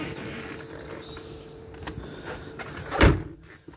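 The door of a 2017 Laika Kreos 3008 motorhome is opened by squeezing its small handle. A faint handle click is followed by a sharp latch clack and a soft swish, close by in a quiet interior.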